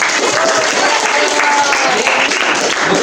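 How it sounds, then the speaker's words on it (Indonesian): Classmates in a school classroom clap for a student, a steady, close burst of hand claps filling the room, with a voice faintly mixed in. "Tepuk tangan untuk betul"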